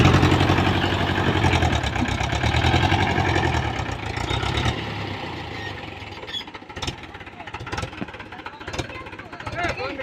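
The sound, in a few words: Mahindra 475 DI tractor engine in muddy field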